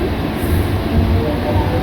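A train running along the tracks, a loud continuous low rumble and rattle of carriages from inside, steady and close throughout the short stretch.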